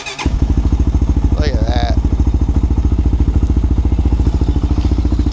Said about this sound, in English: Tell you what, this engine is quiet.